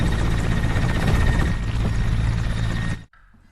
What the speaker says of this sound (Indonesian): Kemudian Bapak Semiradov dan Bu Tatiana pun dijemput oleh helikopter